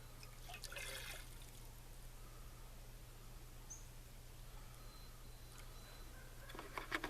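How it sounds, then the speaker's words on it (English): Water trickles and splashes faintly into a Jetboil Flash stove pot, a soft continuous pour over a low steady hum, with a few small clinks and brief bursts of handling noise. "let's get this thing filled with water"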